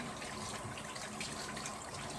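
Cold water runs from a tap onto a white cloth, a soft, steady splashing gush that stays fairly quiet and constant throughout.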